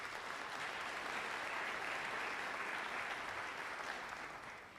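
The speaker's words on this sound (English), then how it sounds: "We can give them a round of applause." A room full of attendees at a police security briefing applauds, a faint, dense, even wash of clapping that holds steady for nearly five seconds and then eases off slightly.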